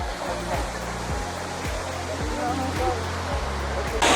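Daranak Falls in Tanay, Rizal, pours with a constant, full roar of falling water close by, while someone talks steadily over the rushing noise.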